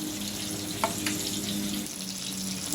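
Gravy of ground masala poured into hot oil for a Kathiyawadi whole-onion curry, giving a soft, continuous sizzle with faint watery bubbling and a low hum, steady and close.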